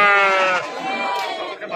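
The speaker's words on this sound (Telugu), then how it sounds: "ఈ పక్క ఒక కట్ట గొర్రెలు ఉన్నాయండి" A sheep lets out a loud, wavering bleat close by at a livestock market in Allagadda, followed by more bleating amid a busy crowd of voices.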